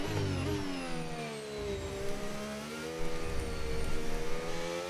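A racing car engine in a time-trial racing game, revving high under throttle with a steady harmonic whine that dips and climbs as the revs shift, loud and continuous throughout.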